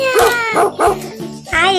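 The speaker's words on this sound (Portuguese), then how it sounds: "É um cachorrinho." A small puppy, found behind a tree in a forest setting, gives several high, pitched yips and barks in quick bursts, close and loud, separated by brief pauses.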